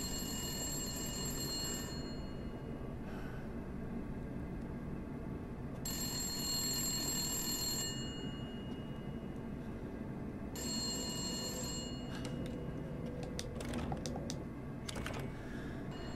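An old telephone rings in the video game Resident Evil Village, three long electronic ring bursts with quiet gaps between, under a low steady hum, followed by a few soft clicks.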